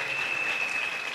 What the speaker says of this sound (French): Acclamons très fort pour le roi.